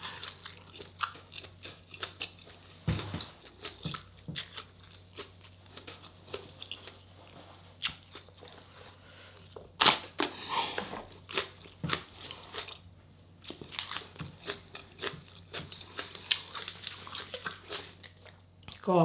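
Grandma in a Thai home kitchen chewing crunchy food, likely grilled giant pork neck with papaya-style noodle salad, making scattered close crunching bites with quiet room noise and brief talk between them.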